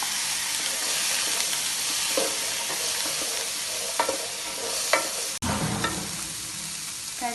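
Onions and chickpeas for channa masala sizzle loudly in a hot pan, a dense continuous frying hiss punctuated by occasional stirring scrapes and one sharp knock.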